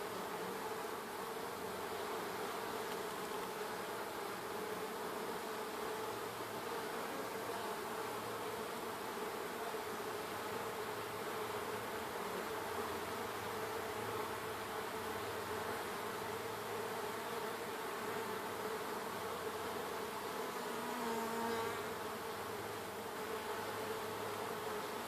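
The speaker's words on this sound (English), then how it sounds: "These bees are pretty well behaved, I must say." Honey bees hum steadily in a barrel top bar hive during an inspection, a dense, continuous drone of many wings close by with no voices over it.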